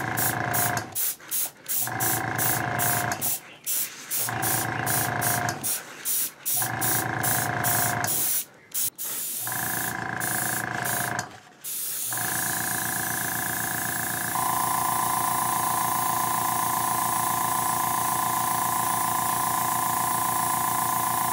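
An aerosol can sprays a light coat of ALUMALUSTER onto a Mandalorian Rising Phoenix jetpack prop, hissing in a series of short bursts with brief pauses, then one long continuous spray, loud and close.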